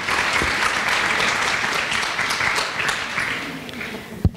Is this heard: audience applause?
yes